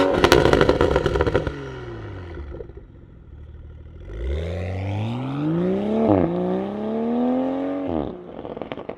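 A modified Toyota Supra Mk5 GR engine starts with a loud clattering crank, settles into an idle, then revs up in two rising sweeps, each dropping back again.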